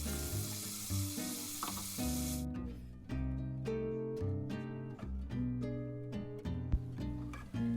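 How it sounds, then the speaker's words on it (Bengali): Spice-coated shrimp fry lightly in hot oil, giving a steady sizzle that is strongest at the start and continues under background music for several seconds. "এখন এগুলো হালকা করে ভেজে নিব"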